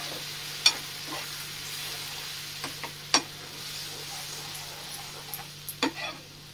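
Ground spice paste mixed with water sizzles steadily in a pan for Hyderabadi paneer, and a spoon scrapes and clicks against the pan now and then as it is stirred.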